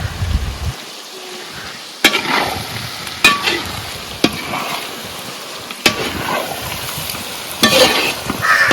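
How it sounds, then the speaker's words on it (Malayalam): Pork roast frying in a pan with coconut pieces and curry leaves gives a steady, close sizzle, with several sharp stirring scrapes and clatters recurring every second or so. "തേങ്ങാക്കൊത്തൊക്കെ ഇട്ട് ഫ്രൈ ആണ്"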